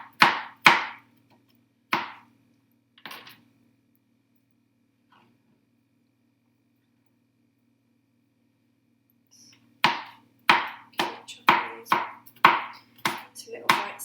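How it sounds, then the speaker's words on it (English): Knife chopping boiled carrots into small pieces on a board: a few separate sharp chops, a long silent pause, then a quick run of close, crisp, rhythmic cuts. "chop these into little pieces"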